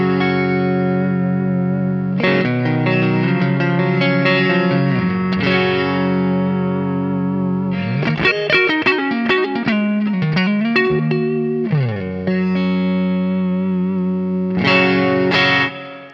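Clean electric guitar played through an AMP1 preamp with an MS3 compressor and spring-style reverb, strummed chords and picked melodic phrases ringing steadily and close, with a reverb tail, no voices.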